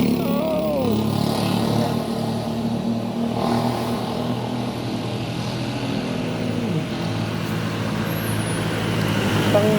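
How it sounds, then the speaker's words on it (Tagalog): Large trucks rumbling past on a public road before dawn, a loud sustained roar of heavy engines and tyre noise that swells and fades as vehicles pass, with traffic continuing underneath. "Malalaking truck dumadaan na."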